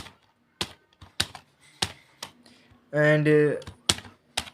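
Keys on a computer keyboard clack in short, irregular bursts of close, crisp taps, broken up by a brief spoken phrase partway through.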